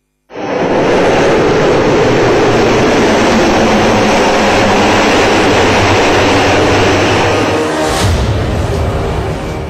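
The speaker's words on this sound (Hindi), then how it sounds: "110 मिनट में 17 विमानों ने एक्सप्रेसवे पर इतिहास रच दिया।" Indian Air Force aircraft pass low over an expressway, a loud, sustained jet roar filling the whole stretch, swelling briefly near the end before easing off, with no voices.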